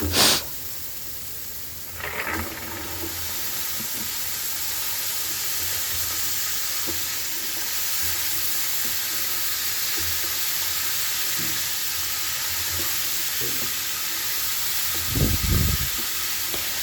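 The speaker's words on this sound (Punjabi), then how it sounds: "ਸਬਜ਼ੀ ਨੂੰ ਤੜਕਾ ਲਗਾ ਲਿਆ ਸੀ" Vegetables sizzle in a pan during tempering (tadka), a soft steady hiss throughout with a sharp clatter at the start and a few utensil knocks later, without any voices.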